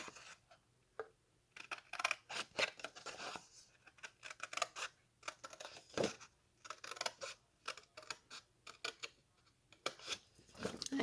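Scissors snip paper, trimming it down for a handmade gift card and treat box. Close, quiet cuts come in irregular bursts of crisp snips, with faint paper rustling between them.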